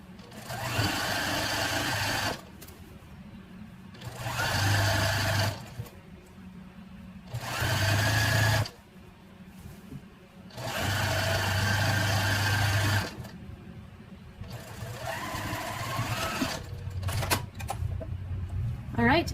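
A domestic sewing machine runs stitching a French seam on a king-size pillowcase, with several loud whirring bursts broken by short pauses and someone talking between and over them.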